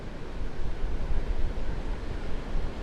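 Surf rolling onto a vast beach on the eastern side of Moreton Island, a low, steady rumble of waves with wind, faint and distant, with no voices.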